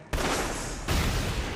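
Anime gunfire from Jujutsu Kaisen's Shibuya Incident, a character firing literal finger guns: a sudden loud, sustained burst of rapid shots that swells again partway through, dense and close with no talk.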